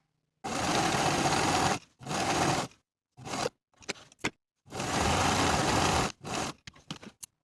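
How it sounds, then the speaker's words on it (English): A sewing machine runs basting stitches along the bottom of a dress bodice in two long, steady buzzing runs, each followed by short stop-start bursts, close and with no talk. "Now I'll sew basting stitches along the bottom of the bodice from side seam to side seam"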